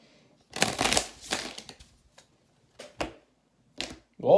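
Tarot cards that resist shuffling give a couple of close riffling bursts, followed by a few short isolated card taps and slaps.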